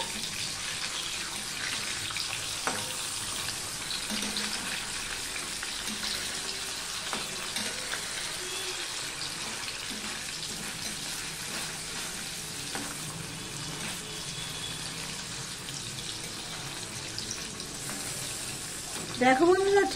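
Cubes of paneer frying lightly in a well-heated kadai give off a steady, close hiss that runs from start to finish. A brief stronger clatter comes near the end.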